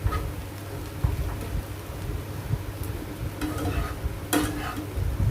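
Spiced soya chunk mixture stirred and frying in a pan, with a steady low sizzle and repeated spoon scrapes, one sharper clatter near the end.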